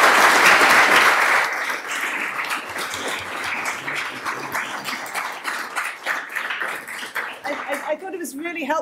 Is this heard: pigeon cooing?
no